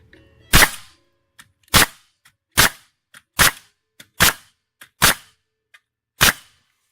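A repaired Hitachi NR65AK2 pneumatic nail gun fires eight sharp, loud shots in a fairly even rhythm, each crack separated by about a second, with faint clicks and hisses between them and no talk.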